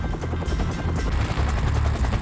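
A CH-47 Chinook twin-rotor military helicopter supporting search-and-destroy missions in Vietnam, heard as a loud, steady rotor roar with rapid low thudding chop throughout, no voices over it.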